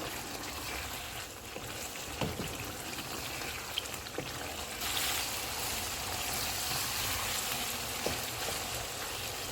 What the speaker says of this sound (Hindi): सब्ज़ मिर्चें डालेंगे, मेथी, गरम मसाला पाउडर। इसको 2 से 3 मिनट तक भूनेंगे।